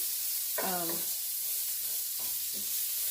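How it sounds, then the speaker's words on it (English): Pork chops sizzle steadily in a frying pan, with a constant bright hiss and a few brief scraping stirs breaking through. No one speaks. "I'm going to fry this"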